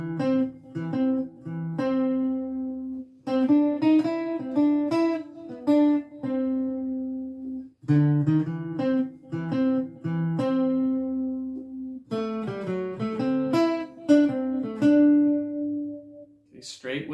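Ragtime tune The Entertainer played with a bouncy, uneven swing feel, its melody running in several phrases with short breaks, steady and moderately loud with no other sounds.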